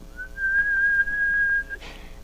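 A single shrill whistle is held steady for nearly two seconds, clear and close, then cut off by a short breathy rustle.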